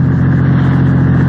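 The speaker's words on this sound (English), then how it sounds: "Car runs nicely, doesn't it?" A car engine runs steadily as a radio drama sound effect, a loud, even mid-pitched hum with no breaks across the short stretch.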